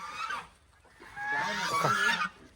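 A hen gives a short squawk, then a longer, louder drawn-out cackling call close by.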